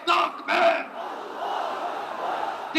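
A large crowd at Suhrawardy Udyan roars a chanted Allahu Akbar in answer to a takbir call, two loud massed bursts followed by a lower sustained rumble of voices, with another surge at the end.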